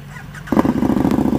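A KTM Super Duke motorcycle fitted with Brembo brakes and an Austin Racing exhaust kicks in after a quiet moment, then revs hard and loud up close in a rapid, pulsing burst.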